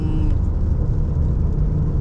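A 2015 Maserati Ghibli S V6 on a test drive in Malaysia gives a constant low engine drone heard from inside the cabin, with road rumble underneath.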